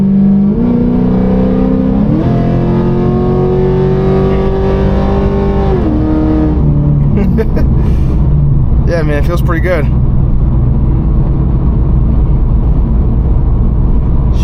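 A tuned Pontiac G8 revs loudly and accelerates through rising pulls and a gear shift, its engine note climbing, then settling into a steady roar. Someone speaks briefly over the engine.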